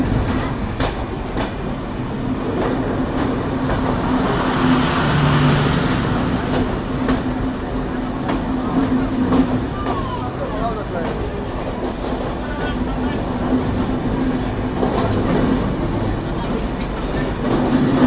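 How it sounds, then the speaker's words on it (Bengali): The Mongla Commuter train, hauled by a 65 series locomotive, passes near Jhikargachha station with a continuous loud rumble and rhythmic clickety-clack of wheels on rails, while a voice is heard over it. "আর মোংলা কমিউটারও দেখতে পাচ্ছি 65 সিরিজের লোকো"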